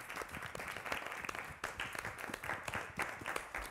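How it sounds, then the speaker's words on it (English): An audience at an evening gathering gives a round of applause, a continuous dense patter of many hands clapping throughout, heard from within the room. "Give yourself a round of applause."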